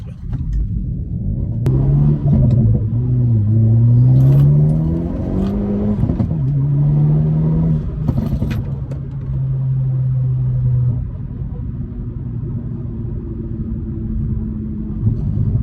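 A 2020 Hyundai Veloster N with a custom tune and upgraded injectors accelerates hard in second gear, its loud, close engine note climbing in pitch with a throaty rumble and brief dips as revs surge.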